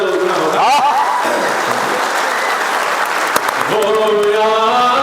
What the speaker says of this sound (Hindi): तालियों से साथ देंगे तो गीत का मजा तो दुगना होगा